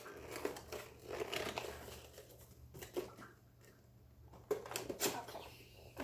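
Tape peeled and plastic crinkled on a WWE Keith Lee action figure's packaging, a run of soft scattered crackles and rustles close by, with brief sharper bursts near the middle and end.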